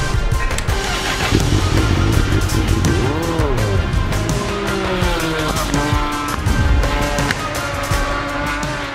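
A Honda Fireblade SP race motorcycle lapping Cadwell Park on a shakedown test, its loud engine rising and falling through gear changes as it passes, alongside other vehicle noise on the circuit, with no talk.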